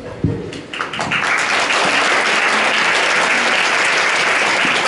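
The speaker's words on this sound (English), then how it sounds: "That applause is for you." Steady audience applause at a Tom Ellis fan convention panel, rising quickly after a few scattered claps and holding loud and dense for several seconds, with no voices over it.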